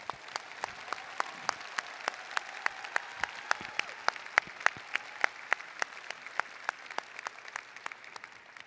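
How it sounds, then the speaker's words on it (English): Applause from a spring commencement audience at a university graduation for doctoral, MFA and medical degree candidates: a large crowd claps steadily for nearly nine seconds, sharp distinct claps standing out over a soft continuous wash of hands. "let's give those who helped you get here one more round of applause"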